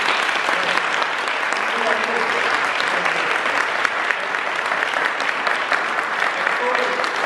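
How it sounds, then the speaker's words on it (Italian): Sustained audience applause fills a hall at the closing speech of a Krav Maga open day, dense and steady clapping from many hands holding at an even level throughout. "penso meriti un applauso"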